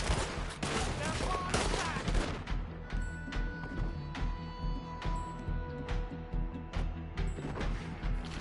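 Rapid overlapping gunfire from a frantic shootout in Red Dead Redemption 2, with dense bursts of shots filling the scene while characters shout over the chaos.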